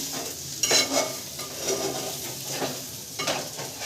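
Chicken frying in a small amount of oil in a pan, a low continuous sizzle broken by scraping stirs and light clinks of a spoon against the pan.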